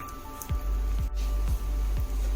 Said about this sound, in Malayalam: ജസ്റ്റ് ഒന്ന് ഇളക്കാം